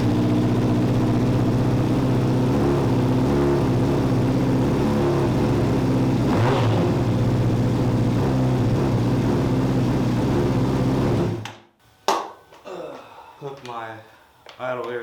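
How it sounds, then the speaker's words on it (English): A Honda CBR600RR sport bike with its airbox lid removed runs at a steady, loud idle for about eleven seconds, then cuts out abruptly, and someone speaks afterward. "see how it runs when I start it with the airbox out. Well, the lid to the airbox out."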